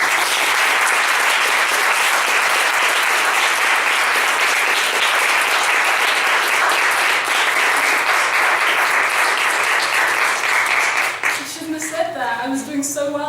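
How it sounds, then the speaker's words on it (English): Loud, sustained applause from the audience at an oral reading club's spring performance, a dense wash of many hands clapping that runs for several seconds before breaking off abruptly, with a voice beginning to speak at the end. "so we can all give her a round of applause for all the hard work she's put into this"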